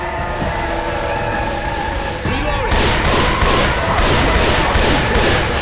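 Gunfire from several weapons aimed at a Charger in Left 4 Dead 2, loud, rapid regular bursts that grow heavier halfway through.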